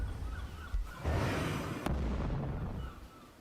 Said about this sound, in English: I heard that explosion